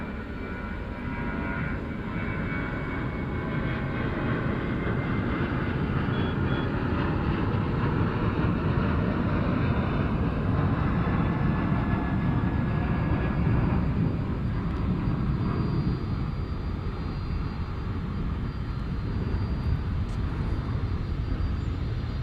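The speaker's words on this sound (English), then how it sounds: "rotating. Runway 36 right for takeoff. 737-800." A Boeing 737-800 jet takes off at night from runway 36 right at DFW Airport, with a continuous loud engine roar that holds steady throughout and no talking.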